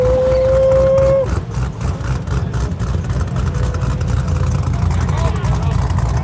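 Van engine rumbling at a busy Memphis car meet, a deep steady engine drone with a brief high whine early on, close and loud amid crowd chatter and other passing cars.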